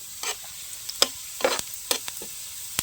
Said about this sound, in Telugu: ఉల్లిపాయలు అయితే బాగా మగ్గినాయండి